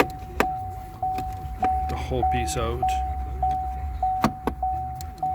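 A 2017-2019 Chevy Volt in neutral, mid shift-to-park repair, emits a steady series of short, evenly spaced warning beeps, moderately loud, under people talking and clunks of work on the car.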